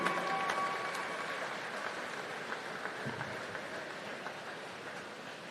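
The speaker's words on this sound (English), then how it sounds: "Give a round of applause for your Junior Pan Pacific Championship team" Faint, distant applause from a crowd at a swimming championship finals session greets the junior Pan Pacific team, a soft steady patter with a few sharper claps.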